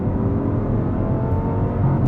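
An Audi R8 engine revs high and loud, keeping up a steady, dense roar with a strong low rumble and harmonic whine throughout, and no voices over it.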